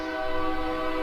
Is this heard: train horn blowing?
yes